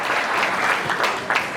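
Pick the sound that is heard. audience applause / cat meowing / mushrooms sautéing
audience applause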